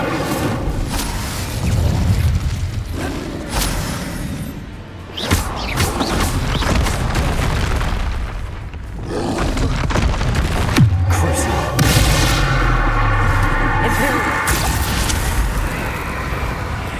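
In the video game Hogwarts Legacy, a Bombarda spell explodes amid ongoing combat, producing heavy booms and crashing smashes. They play over a dense, continuous wash of game effects and noise.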